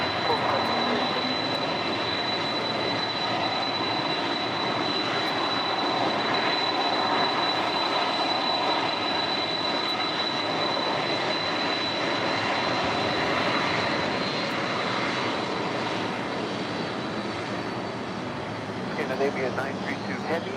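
A jet airliner's engines roar steadily on a runway at LAX during takeoff, a broad continuous rumble and whine holding for the whole stretch, with faint radio chatter in the background.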